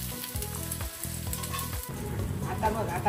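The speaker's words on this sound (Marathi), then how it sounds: "आता याच्यामध्ये मी तेल घालून ते कांदा भाजून घेते." Chopped onion frying in hot oil in a pan for a traditional Nashik village-style dubuk wadi gravy, a steady close sizzle with a few low scraping stirs early on, building slightly louder toward the end.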